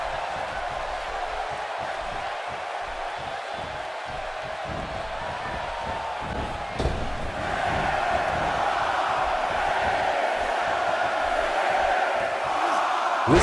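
A large professional wrestling crowd roars continuously, loud and sustained, swelling a little partway through with shouts rising out of the din.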